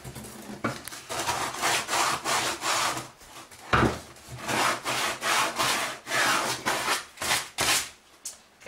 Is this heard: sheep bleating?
no